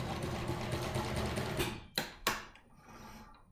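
A sewing machine stitches a seam across the top of a fabric face mask, a fast steady whir for about one and a half seconds, followed by a couple of sharp clunks and quieter handling noises.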